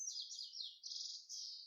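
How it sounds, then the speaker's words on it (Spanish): Small bird chirping outdoors in a rapid, continuous high-pitched trill of several phrases, faint and distant. "¿Qué pájaro será ese?"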